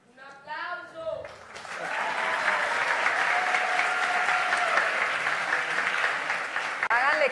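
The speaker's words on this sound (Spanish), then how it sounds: "¡Un aplauso!" Audience applause at a children's presidential debate, starting after a brief voice and swelling into loud, sustained clapping from a large crowd that fills the rest of the moment.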